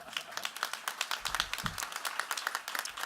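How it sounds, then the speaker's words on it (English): Audience applause at an immigration lawyers' annual conference in New Orleans, a dense burst of many hands clapping steadily at moderate volume throughout, with no talking. "Give yourselves a round of applause because you deserve it."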